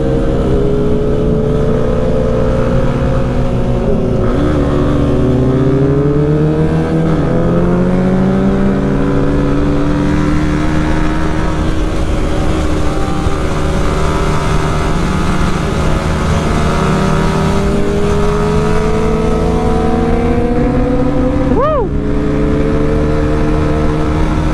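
Motorcycle accelerating hard while trying to overtake uphill on the winding Marilaque highway, engine revs climbing and dropping in repeated surges, loud and close throughout with constant wind rush.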